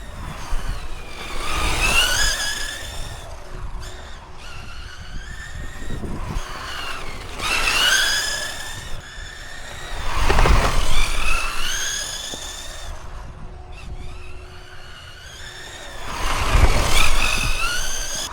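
A Losi 22S Dirt Late Model RC car races on an oval track. Its high whining motor rises and falls in repeated passes, swelling loudly as it sweeps by with tire scrubbing on the dirt.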